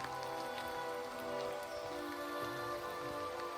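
Heavy rain pours steadily outdoors at a rocky overlook above the Allegheny Reservoir in Allegheny National Forest, a dense continuous patter on nearby surfaces with no talking.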